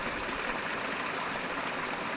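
Water trickles through a gravity water filter on a Dartmoor walk, giving a steady, close, continuous hiss and splash with no breaks and no voices.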